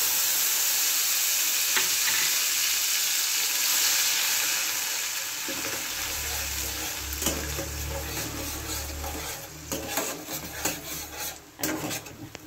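Onion paste sizzling and rasping in hot oil with cinnamon, cloves and green cardamom, a steady close frying hiss with stirring scrapes growing busier toward the end.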